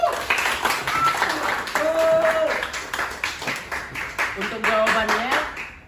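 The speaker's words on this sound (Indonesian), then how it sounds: "Beri aplaus dulu untuk teman." A class applauds a classmate in a Newton's laws physics lesson, a steady patter of many hands clapping, with voices talking and calling out over it.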